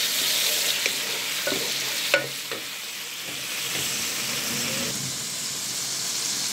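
Tomatoes and Malabar spinach sautéing in a pan for a squid stir fry, a steady close sizzle with stirring scrapes and a couple of clicks of a utensil on the pan.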